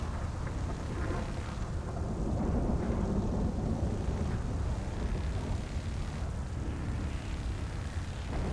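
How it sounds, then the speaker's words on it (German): A thunderstorm in GTA V gives off a deep, continuous rumble of thunder with a rain-like wash, steady and fairly loud throughout, with no speech. "Scheiß Gewitter!"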